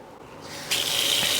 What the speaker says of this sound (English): Give my hands a wash and we'll get them racked up.